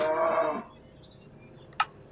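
A cow moos in a Minecraft-style video game, one low drawn-out call at the start that fades, followed by quiet and a brief sharp click.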